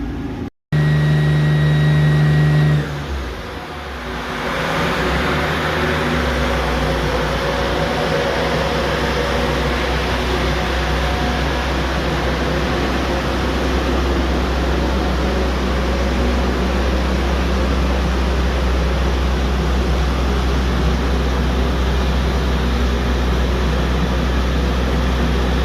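A car on a dyno with a slipping, brand-new clutch: after a brief tonal start and a sudden cut, a steady engine roar builds and holds for over twenty seconds, loud and continuous with no talk.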